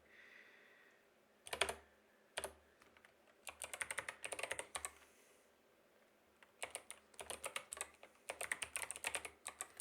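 Rapid bursts of computer keyboard typing during a terminal session, clustered keystroke runs separated by short pauses, close and moderately loud with no talking.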